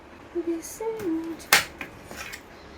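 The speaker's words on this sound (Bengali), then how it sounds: "ধুয়ে রাখা কুলগুলোকে না আমি দুভাগে কেটে নেব" Knife strokes and light clinks of a blade on a plate or board while washed jujube fruits (kul) are cut in half, a few distinct close taps spread over a quiet moment.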